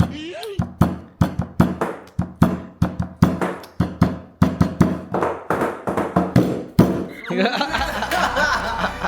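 Rapid, uneven knocking taps in a long playful series mimic a monkey rapping on a house door, close and clear, ending in a burst of laughter and noisy chatter.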